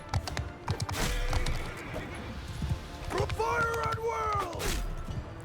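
Horse hooves gallop in the medieval battle game Mount & Blade II Bannerlord, a steady patter of hoofbeats under battle noise, with a loud horse whinny rising midway and a voice in the background.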